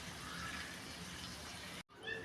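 Water poured into a pan of poa fish curry being cooked with lots of spices, a faint steady gushing splash that cuts off abruptly, followed by a brief sizzle-like hiss.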